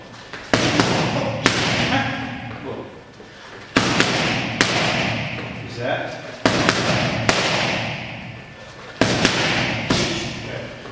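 Sharp, loud thuds of left hooks striking boxing pads land during a training session, coming in quick pairs and triples with short pauses between, while a coach's voice talks over the impacts.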